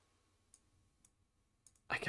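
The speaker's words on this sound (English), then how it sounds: "I'm left-clicking the play button, I'm left-clicking the pause button" A computer mouse button is clicked in a few faint, sharp, isolated clicks spaced apart in a quiet room, with a brief burst of speech at the end.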